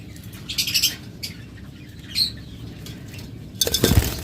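Yellow-collared lovebirds in a sale cage, giving scattered chirps and brief wing flutters close by, with a louder flurry of flapping and calls at the end.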